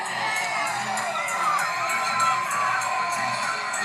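A crowd at a live event cheers and shouts steadily, loud, dense whooping and yelling from many voices that holds for several seconds without a break.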